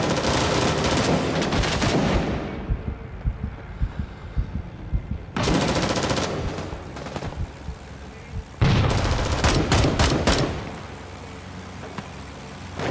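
Gunfire rattles in Rising Storm 2 Vietnam, with bursts of loud automatic fire separated by quieter stretches of scattered single shots and thuds, some sounding near and some farther off.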